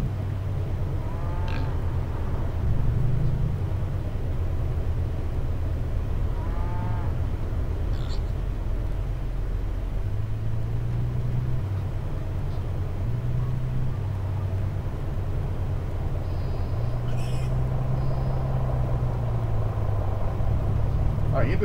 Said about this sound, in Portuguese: Esse som maluco aí de animais, gente?